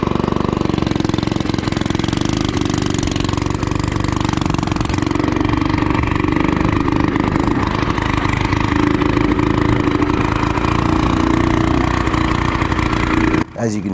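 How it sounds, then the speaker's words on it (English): A Harbor Freight budget cafe racer motorcycle engine with out-of-tune carburetors runs loudly and steadily up close, a rough, uneven drone that cuts off abruptly at the very end. "As you can hear, the carburetors aren't completely in tune just yet."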